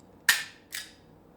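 A Crosman Vigilante CO2 pellet revolver dry fired in double action gives two sharp, close metallic clicks about half a second apart, the first louder than the second.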